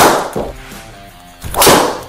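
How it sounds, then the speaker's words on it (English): A golf driver strikes a ball hard in speed training, giving two loud, sharp cracks close by, separated by about a second of quieter ringing, with no talk. "We are smashing golf balls. We're hitting them that hard."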